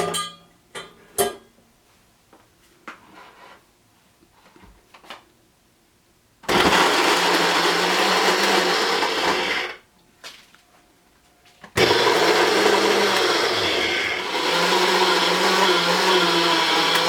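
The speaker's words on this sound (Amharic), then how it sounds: "ይፈጫል።" A blender grinds ingredients for Ethiopian ful in two loud, sustained bursts separated by a short pause, preceded by several sharp clicks and knocks as the machine is set up.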